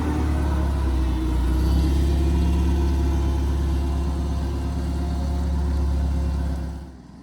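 A small farm sprayer rig's engine runs at a steady, loud low rumble for several seconds during a fungicide application, then fades off at the end, with no talking.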